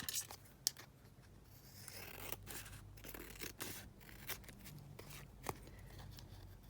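Scissors snip through paper ephemera cut from a 12 x 12 master board, with a series of quiet, crisp snips and rustles close by in a calm room.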